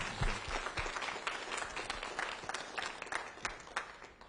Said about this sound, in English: So can we give them a great big round of applause